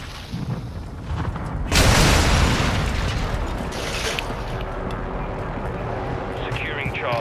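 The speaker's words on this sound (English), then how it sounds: "Hostile mortar strike near your position." Mortar strike explosions in Call of Duty: a sudden loud boom near the two-second mark, followed by a long rumbling decay and continuous battlefield noise, with voices over it.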